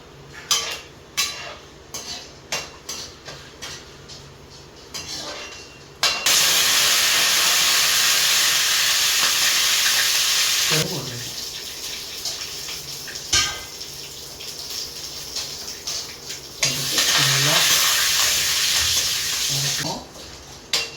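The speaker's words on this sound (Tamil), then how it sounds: "நெய் சூடானோன்னு நம்ம வந்து மிளகு சீரகம் போட்டுக்கணும்." Black pepper and cumin crackle and sizzle in hot ghee in a pan for rava pongal, a loud steady hiss that comes in long bursts. Utensils clink between them, and a person talks at times.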